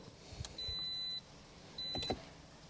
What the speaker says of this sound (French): Donc maintenant quand je mets le contact